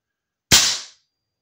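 A single sharp shot from a BRK Ghost airsoft gun fired through a chronograph gives a sudden crack and a short fading tail, close and loud, with silence before and after.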